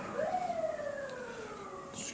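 An emergency vehicle siren wails out in street traffic, a single rising then slowly falling tone, distant and moderately loud, heard outside an indoor room.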